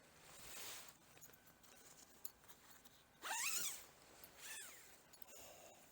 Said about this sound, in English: I'll show you what this looks like when you undo the zip